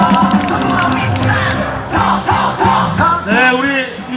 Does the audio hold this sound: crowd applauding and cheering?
yes